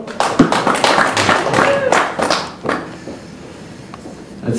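A crowd claps in a short burst of applause as an audience votes, loud and close, then it fades out after about two seconds, leaving quiet with a few scattered taps.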